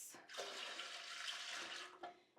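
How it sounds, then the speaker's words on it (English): Quarts of water poured into the bottom of a pan for canning turkey stock, a full, rushing pour of about two seconds that stops abruptly, with a brief splash just after. "I'm going to add my 3 quarts of water to the bottom of this pan."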